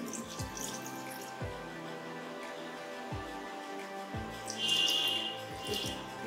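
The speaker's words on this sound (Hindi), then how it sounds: "हाफ ग्लास पानी दे दीजिए।" Water is poured into a pan of jaggery on a gas stove to make syrup, with a light splashing trickle and a few drips over a faint steady tonal background.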